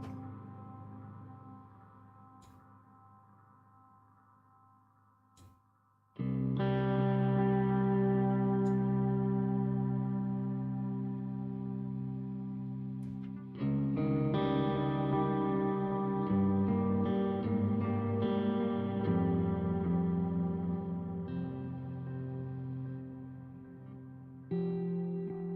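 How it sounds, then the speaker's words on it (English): A sustained synth-like tone runs through a delay plugin, swelling in at several points and producing layered repeating echoes and tails, loud and alone without speech. "I want to mess with some delay with my favorite delay plugin."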